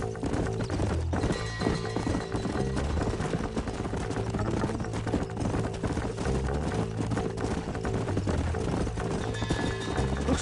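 Horses in the video game Red Dead Redemption clip-clop along at a steady run, hooves beating continuously and loudly over a dense bed of music and ambience for the whole stretch.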